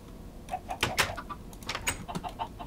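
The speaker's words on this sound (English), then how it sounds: "We get chickens." Chickens in a video game give soft, repeated clucks and coos with a few sharper scrapes mixed in, steady and moderately close, with no talking.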